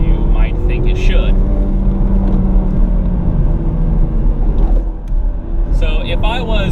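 A manual Chevy Camaro Turbo with a heavy flywheel is driven hard, and its engine revs in a loud, rumbling drone with a heel-toe downshift blip. Someone talks over it almost throughout.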